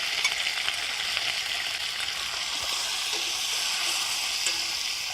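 Onions fry steadily in a pan as smoked tri tip rests nearby, a continuous close hiss and crackle with no pauses, with no talking heard.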